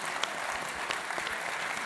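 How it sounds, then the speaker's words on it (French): Steady applause from an audience at a 2021 congress of the CFE-CGC insurance federation: a dense, even patter of many hands clapping throughout, fairly close and continuous. "on peut l'applaudir"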